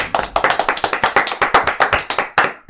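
Loud, close clapping from an audience cheering for health workers at a twins' game competition, a quick uneven burst of sharp claps that runs without pause for about three seconds.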